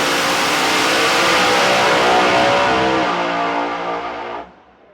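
A 521 Noonan Hemi with Noonan heads and a C-rotor screw blower, backed by a Suncoast 400 turbo transmission, roars loudly at sustained high revs in a no-prep drag race car, then cuts off abruptly near the end.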